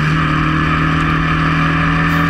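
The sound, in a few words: Historic Formula Ford race cars racing at Cadwell Park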